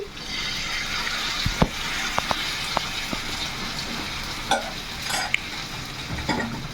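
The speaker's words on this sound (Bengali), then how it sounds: "সামান্য জল দিয়ে দিয়ে গুলিয়ে নেবো আমি" Gram-flour batter stirred with a little water in a bowl, quiet soft swishing under low background noise with scattered spoon clicks and taps against the vessel, close and faint, no speech.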